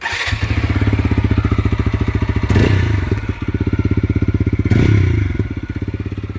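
A 2025 TVS Apache 160 4V motorcycle engine idles with a steady, thumping exhaust beat, revving up twice before settling back, loud and close.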